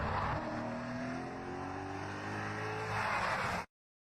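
Race car at UMI's Muscle on the Mountain pulling away from the start, engine revving loud with pitch climbing through gears, then cutting off abruptly.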